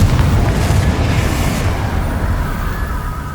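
A Confringo spell erupts in Hogwarts Legacy as a loud, booming blast with a rumbling tail that slowly fades over several seconds, with no talking.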